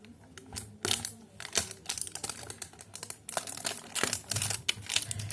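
A sealed black box holding a new cream is unwrapped and opened by hand, giving close, quiet crinkling and tapping noises in quick irregular bursts, with no speech.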